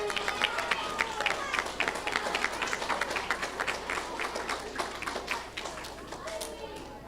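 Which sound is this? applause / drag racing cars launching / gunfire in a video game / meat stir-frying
applause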